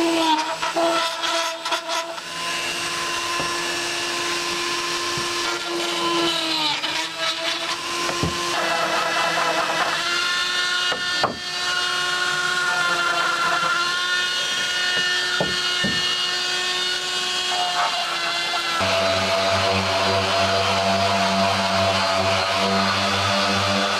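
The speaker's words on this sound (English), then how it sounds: "burn through with the Dremel tool, get all the holes in place." A high-pitched Dremel rotary tool whines continuously, burning through motorcycle plastic bodywork, its pitch shifting as it bites in, with occasional clicks and a lower hum near the end.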